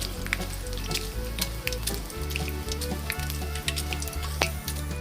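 Pumpkin and quail egg dough balls deep frying in hot oil, a steady close sizzle with fine crackling pops throughout and no talking.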